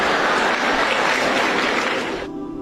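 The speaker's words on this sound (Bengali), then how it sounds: "হাততালি থামাও" Dense, steady audience applause fills the space at a motivational talk, many hands clapping loudly and continuously before cutting off sharply near the end, leaving a faint tail.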